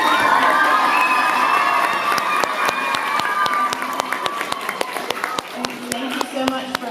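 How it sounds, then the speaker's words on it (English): Applause and cheering fill an elementary school spelling bee audience, a dense crowd of clapping with children shouting, loud and close at first, then thinning into scattered sharp claps. "Let's also give a round of applause to Ms. Holly Wilson for coming out again thi"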